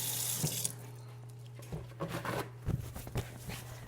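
Water running from a kitchen tap into a sink during hand washing, a steady splashing stream with soft patters and clinks, fairly quiet and with no talk.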